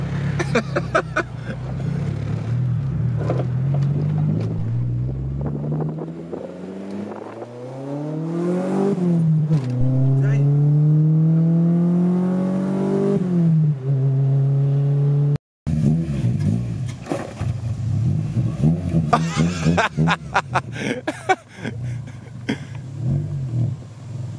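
A Honda Civic hatchback with an untuned B20 VTEC engine revs hard through several accelerating pulls, the pitch climbing and dropping with each gear change, loud and close from inside the car, with a brief cut partway and little talk.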